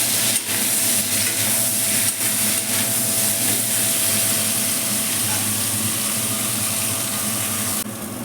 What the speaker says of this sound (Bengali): প্রথমে আমি এঁচড়গুলিকে লাল লাল করে ভেজে নেব।